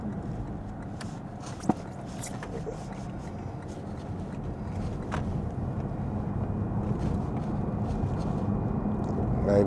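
Steady low road rumble inside a Lexus ES 350 F Sport cruising at night in the rain, a constant hum that slowly grows louder, with faint ticks and one brief knock.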